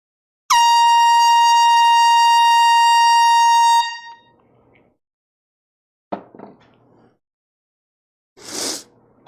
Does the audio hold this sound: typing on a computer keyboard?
no